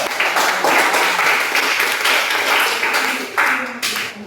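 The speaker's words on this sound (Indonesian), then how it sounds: "Kita beri tepuk tangan dulu untuk kelompok satu." A classroom group claps loudly and continuously, a dense burst of applause that tapers slightly toward the end.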